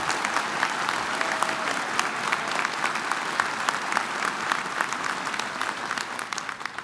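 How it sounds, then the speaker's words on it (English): A university audience applauds steadily at an address, a dense even wash of many hands clapping for several seconds with no talk over it. "Please give Dr. Bissell a hearty round of applause"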